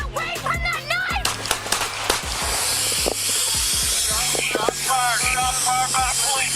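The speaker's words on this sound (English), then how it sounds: "Shots fired by police." Police gunshots fired at an armed woman holding a knife, a rapid run of sharp cracks amid shouting voices, followed by hissing noise and more yelling.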